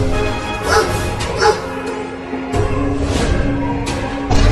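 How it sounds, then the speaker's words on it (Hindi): A cartoon dog barks and yips repeatedly over a busy, loud background of music and effects, several sharp barks spaced through the stretch. "देखो तुम्हारे पीछे कुत्ता है।"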